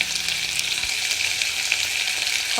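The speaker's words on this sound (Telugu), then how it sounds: "దొండకాయలు వేసేసినండి ఇందులో" Sliced ivy gourd sizzles and fries steadily in hot oil in a pan, a continuous close crackling hiss with no talk.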